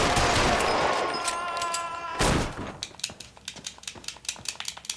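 Gunfire in a shootout in the video game L.A. Noire, with a rapid string of sharp shots and a loud burst of fire followed by scattered single cracks that trail off, heard alone without talk.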